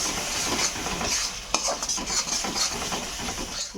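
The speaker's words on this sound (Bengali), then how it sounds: "এখন আবার লঙ্কার গুঁড়োটা দিয়ে দিলাম, এবার কষাতে থাকবো।" A pan of fish curry spices with chilli powder is stirred and sautéed, a spoon scraping steadily against the metal over a constant close sizzle, with a few sharper clinks of utensil on pan.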